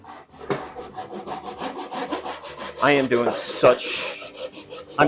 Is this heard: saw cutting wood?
yes